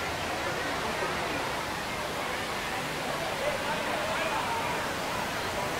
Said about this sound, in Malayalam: എന്നാലും കുഴപ്പമില്ലാത്തൊരു വെള്ളച്ചാട്ടമാണ്